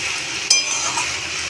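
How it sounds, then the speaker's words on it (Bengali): Vegetables fry in spices for khichuri with a steady, close hiss, and two sharp metallic clinks from a spoon against the pot break through it. "এই সব কিছু মশলা দিয়ে এবার সবজিগুলো ভাজছি।"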